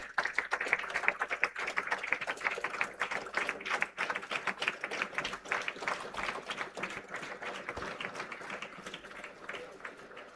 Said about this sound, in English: A huge round of applause, audience, please.